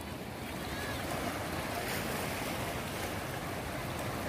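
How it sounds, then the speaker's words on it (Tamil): Steady ocean waves wash and rumble close by at Haji Ali Dargah in Mumbai at sunset, a continuous surf roar with light wind and no talking. "அலையும் கூட வர ஆரம்பிச்சிட்டுங்க."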